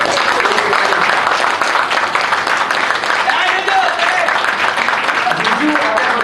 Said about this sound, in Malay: kalau boleh kita sama-sama menjemput dengan tepuk tangan hebat ya